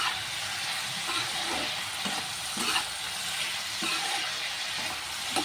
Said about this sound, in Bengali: ওকে ভাজা ভাজা করবো।